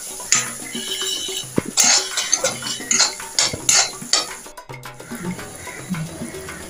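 Onions with red chilli powder and spices being stirred and tossed in a pan for egg bhurji, giving scraping, clinking utensil sounds and soft sizzling in uneven strokes, close by with no talk.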